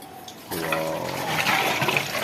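Water gushing from a tap, starting as a soft trickle and then surging into a strong, close rush of flow.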